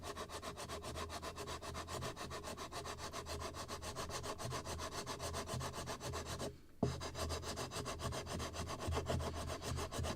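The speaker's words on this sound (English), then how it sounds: "I will try to do it with a sandpaper" Sandpaper rubbed by hand over wood while fairing a model boat hull, a steady rhythmic rasping scrub of quick, even back-and-forth strokes close up, with one brief pause partway through.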